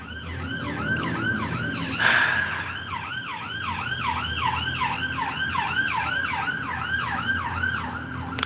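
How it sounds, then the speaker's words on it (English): Outdoor emergency sirens wail in a fast repeating rise-and-fall cycle, steady and fairly loud, with a brief bump of extra noise partway through. "every time I try and do a voice note, the sirens will go off"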